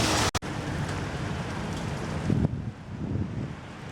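Steady rain in a city street with a broadband hiss and some wind noise on the microphone, continuous throughout, with a brief dropout near the start.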